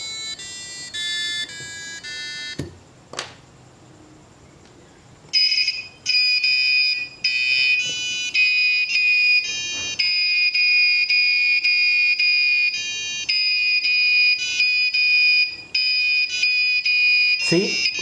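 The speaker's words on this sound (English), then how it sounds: "Now let's see what will happen if we connect active buzzer to this." A KY012 active buzzer module on an Arduino sounds in steady, piercing tonal bursts with short gaps between them, loud and close, and no one speaks.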